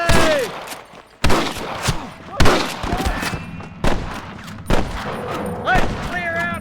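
Sniper rifle shots crack out in a Red Dead Redemption shootout at Pike's Basin, five or six loud, sharp reports spaced a second or so apart, with game voices shouting and other battle sounds in between.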